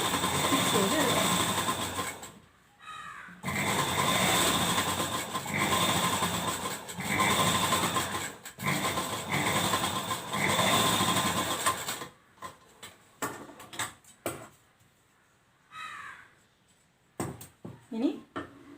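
A sewing machine runs in long bursts while stitching a rounded half-inch seam along the back portion of a lehenga dress, close and loud, then falls to short broken stops near the end.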